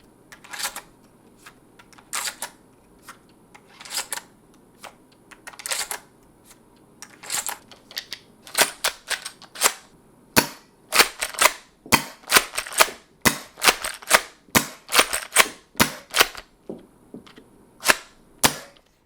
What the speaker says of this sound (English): Actually loading the shotgun though is so satisfying.